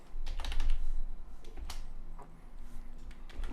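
Fingers type CSS code on a computer keyboard, a close, quick irregular run of clicking keystrokes with brief gaps, no voices.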